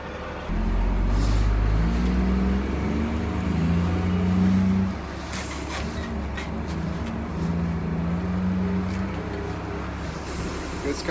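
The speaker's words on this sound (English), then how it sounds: "It's kind of scary, the trucks." Heavy sugar beet harvest trucks in Crookston, Minnesota roar past very close, a loud engine surge with a low drone fading out, then quieter traffic rumble and passing trucks further off.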